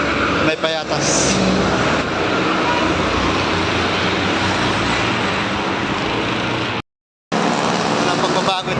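Dense, steady street traffic in Quezon City, Manila, a continuous loud roar of cars and buses passing close by, with a brief cutout near the end.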